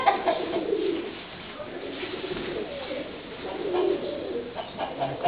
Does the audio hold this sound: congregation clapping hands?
no